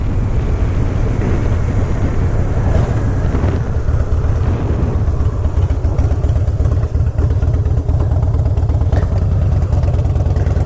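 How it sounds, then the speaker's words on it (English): Harley-Davidson Fat Boy motorcycle cruising at a smooth, steady throttle, its deep exhaust rumble continuous and loud, mixed with nearly equal rushing wind noise. "The wind is almost just as loud as the sound of the exhaust, which I like."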